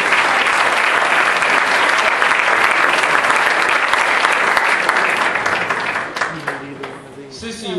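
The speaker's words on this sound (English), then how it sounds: "Please clap for them." A hall audience at an evening event breaks into sustained, loud applause for the bake sale judges, dense clapping that fades toward the end as a voice begins speaking.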